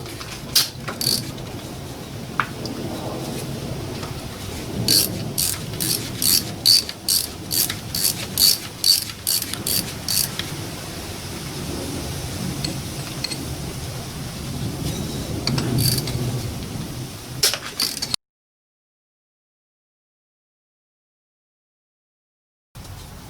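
A ratchet wrench undoes the small Torx screws holding the faulty 7-speed transmission control unit on an Audi gearbox, giving bursts of rapid close clicking that stop abruptly into silence.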